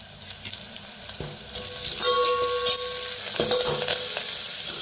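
Spices crackle and sizzle in hot oil for a tempering, a steady close frying hiss with sharp pops and a brief scrape of stirring, no voices.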